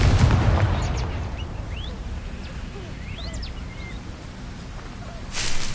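A Confringo blasting spell explodes in a video game, a loud booming burst at the start that fades into a crackling tail, with another sharp blast at the end.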